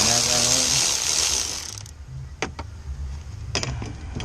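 Ratchet loosening an 8 mm bolt on the intake of a 2012 Nissan Versa, a few sharp clicking bursts after an opening stretch of broadband noise, close and moderately loud.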